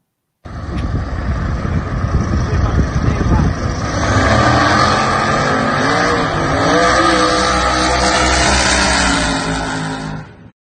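A nitrous-fed drag race car pulls hard down the strip, a loud, sustained engine roar that climbs and holds for several seconds before cutting off, with voices talking over it.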